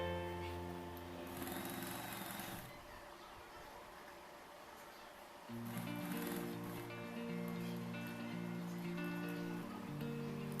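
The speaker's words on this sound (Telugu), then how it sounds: "అలా ఫోల్డ్ చేసి అక్కడ పైన కొస్తున్న బార్డర్లో స్టిచ్ చేయాలి" Sewing machine stitching along the folded border of a dress lining, a steady mechanical whir that stops midway for a few seconds of quiet and then resumes, close and moderately loud.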